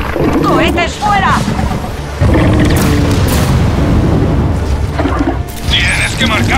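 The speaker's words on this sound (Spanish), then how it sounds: "¡Cohetes fuera!" Heavy booming rocket explosions and crashes rumble repeatedly amid chaotic effects in Gears of War 4, with shouting voices over the top.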